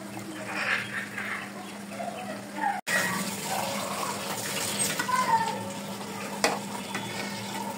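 Mango sweet pickle of mango, spices and sugar cooks in a pan while being stirred, giving a steady sizzling, bubbling bed with scraping stir sounds and a brief break near the middle.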